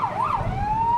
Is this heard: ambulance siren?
yes